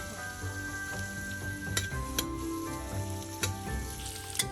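Roast pork frying at high heat in oil in a hot wok, a steady close sizzle with scattered sharp ticks and clinks of a utensil against the metal, no voices.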